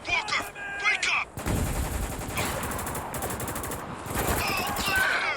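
Rapid automatic gunfire and bursts of shots ring out in the military shooter game Spec Ops: The Line, loud and dense after a short opening, with brief shouted voices mixed in at the start and end.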